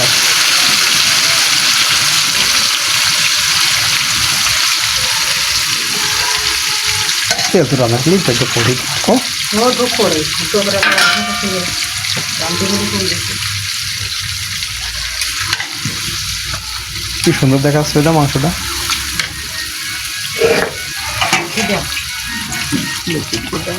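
Chicken pieces sputter and sizzle loudly in hot oil for a home-style chicken biryani, a dense continuous crackle with stirring scrapes, while a voice talks intermittently over it.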